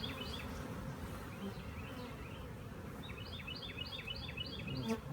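Honey bees from a swarm, clustered while building new comb, hum in a dense, continuous buzz nearby, with individual bees zipping past in short rising whines over the steady drone.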